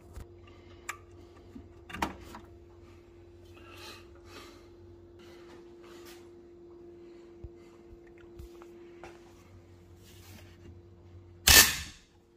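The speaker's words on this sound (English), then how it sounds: "As soon as you switch the power on, it's sparking, so it's blowing the fuse." A faulty, water-damaged Baxi boiler fan sparks at power-on, giving a sharp electrical crack near the end after a faint hum and a few scattered ticks and snaps.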